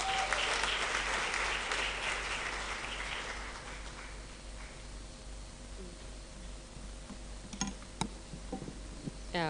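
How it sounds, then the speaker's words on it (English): Applause at a Kepler graduation ceremony in Kigali, loudest at the start and fading into a quieter room, heard from a distance with faint clicks and light handling noise near the end. "A round of applause for Ms."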